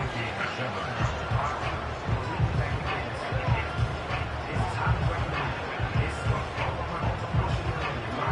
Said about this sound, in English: Big crowd on hand.